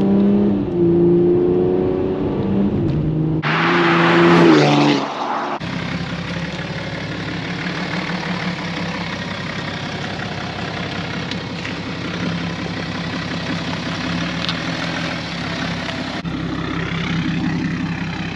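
A three-litre BMW 530d engine revs hard in a loud, close burst, then drops back to a steady, throaty rumble that runs on.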